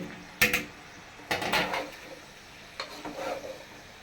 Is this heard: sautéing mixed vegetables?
yes